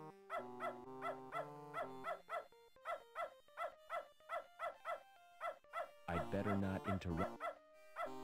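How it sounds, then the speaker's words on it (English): Repeated barking from a dog in the video game Beneath a Steel Sky, a steady run of sharp yaps set against game music, with a voice speaking briefly. "now he's barking at the thing"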